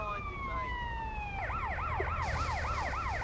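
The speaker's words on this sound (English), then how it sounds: "Oh, the ambulance." An ambulance siren in the video game GTA San Andreas sounds steadily, a falling wail that switches to a rapid rising-and-falling yelp, heard clearly over low traffic rumble with no talking.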